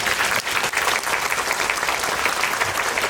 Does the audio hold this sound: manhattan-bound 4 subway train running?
no